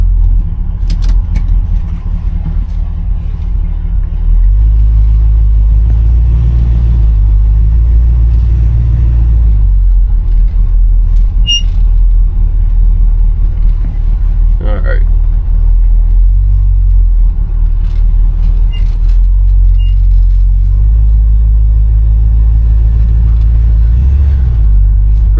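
A 1968 Chevrolet Impala convertible engine rumbles steadily while driving, a deep continuous drone with the pitch shifting as the throttle opens and eases, close and loud throughout with a few faint clicks.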